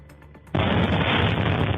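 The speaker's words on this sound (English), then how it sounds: "Russia's much-vaunted air defense system hit a residential building in the Belgorod region with a missile" A missile striking the upper floors of a residential apartment building in Belgorod region: a sudden heavy blast erupts after a brief quiet stretch and then holds as a loud, sustained roar of rumbling noise until the end.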